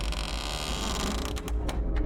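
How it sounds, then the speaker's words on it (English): A heavy door in the horror game Mask of Incantation creaks and grinds as it swings open, loud and close, with a few sharper clicks toward the end. "That is a loud door"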